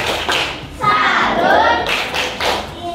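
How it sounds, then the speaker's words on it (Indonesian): A school class gives the rhythmic 'tepuk salut' clapping cheer for presenting groups, sharp patterned hand claps near and loud, mixed with children's voices calling out in between. "Kita beri tepuk salut."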